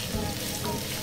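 Carrots and paprika hit a hot pan for Filipino escabeche, giving a steady soft sizzle of frying with a voice faintly present.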